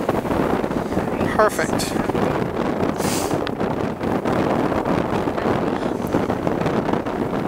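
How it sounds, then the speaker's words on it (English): Steady wind buffets the microphone throughout an outdoor wedding ceremony, a constant rough rumble beneath voices talking close by. "Yeah, it's windy."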